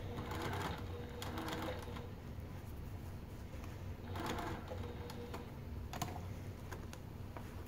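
A sewing machine stitches fabric slowly around corners of a Martini Crossover garment, near staples, its steady mechanical whirring running continuously in short bursts with light clicking throughout.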